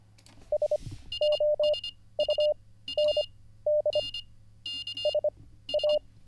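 Morse code CW tones from a radio keyer beep in steady keyed bursts of dots and dashes, close and clear, after a brief rustle at the start.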